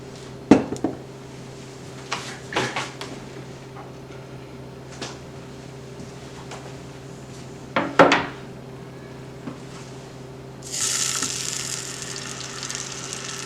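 Peach halves sear cut side down in a hot pan, a steady soft sizzle broken by a few sharp clanks of the pan being shaken, then a louder hiss toward the end.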